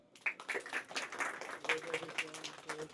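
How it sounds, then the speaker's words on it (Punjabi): Audience clapping at a live jewelry store prize draw, with steady applause greeting four gold ring prizes, a crowd of hands patting out a dense, continuous patter for several seconds. "ਚਾਰਾਂ ਵਾਸਤੇ ਤਾੜੀਆਂ ਹੋ ਜਾਣ"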